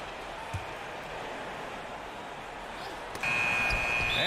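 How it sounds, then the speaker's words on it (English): Basketball video game shot clock violation buzzer, a steady electronic tone cutting in near the end over a continuous crowd roar. "Shot clock violation is the buzzer sound."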